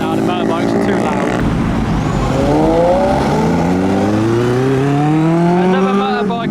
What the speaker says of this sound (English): the motorbikes are too loud